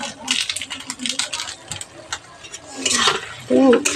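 A spoon stirring potato and pointed gourd curry with garam masala in a pan, soft scraping and clinking strokes with light metallic taps, and someone talking briefly near the end.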